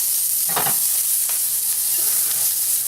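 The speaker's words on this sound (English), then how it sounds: "That's kind of smoking a little bit. Just a drop. Nice sizzle." Steady sizzling of vegetables frying in hot, slightly smoking oil in a skillet, a bright constant hiss with a few soft stirring scrapes.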